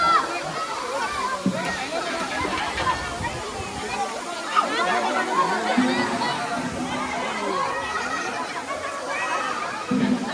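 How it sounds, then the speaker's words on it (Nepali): Water rushes steadily at Gajeri waterfall in Godawari, Kailali, during rain, with a loud continuous roar and splashing throughout and people chattering nearby under it. "फाइनली हामी गजेरी झरना पुग्यौँ।"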